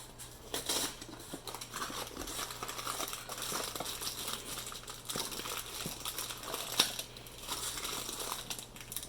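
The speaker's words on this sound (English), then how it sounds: "I'm just going to rip a little hole in it." A crinkly pancake mix bag being torn open and crumpled up close, with brief rustling bursts and a sharp rip partway through.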